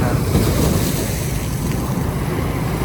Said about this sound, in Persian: صدای آب صدای دریا صدای موج دریا